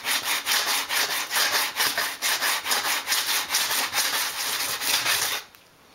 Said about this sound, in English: I'm going to sand that off, and I'm going to start by doing it flat on the work surface like that against my sandpaper